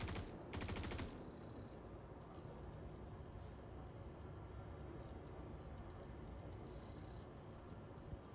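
Brief burst of gunfire in the space game Star Citizen, a rapid rattle of shots lasting about a second, then a steady low rumbling ambient hum with no further shots.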